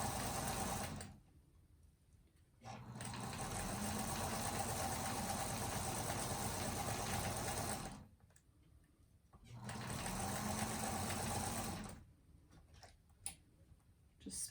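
A sewing machine stitches a quilted table runner seam in steady whirring runs of several seconds, stopping twice for brief pauses before starting again, close and alone without talk.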